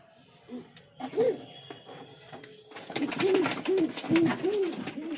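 Several Lotan pigeons coo in a short series of soft, rounded calls, close by, with faint background chatter and rustling between the calls.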